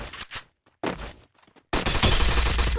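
Bursts of rapid gunfire in the video game Free Fire crackle in short volleys separated by brief pauses, ending in a sustained loud barrage.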